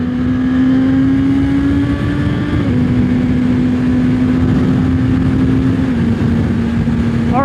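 A 2023 Suzuki GSX-S1000 motorcycle engine holds a loud, steady droning note close by, with small shifts in pitch as the throttle changes, alone without talk.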